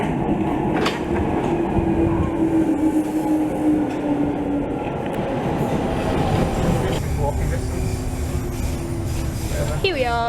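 An overground train rumbles into West Hampstead station in London and slows with a long metallic squeal of wheels and brakes, loud and close, with a steady rolling clatter throughout.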